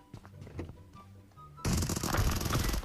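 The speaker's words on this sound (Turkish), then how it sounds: "Bak Dostlar şu an Uzi ile sıkıyordu Barışçı'ya" Uzi submachine gun fire in the mobile game PUBG Mobile bursts in suddenly as a loud, dense rapid stream of shots after a quieter stretch of game sounds and faint background noise.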